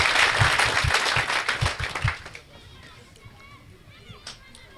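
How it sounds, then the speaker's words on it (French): Audience applause at an official certificate-awarding ceremony honouring a minister, broad clapping for about two seconds that quickly fades to a quiet hall with a few scattered voices. "je vous prie d'applaudir très fort pour cette immense personnalité"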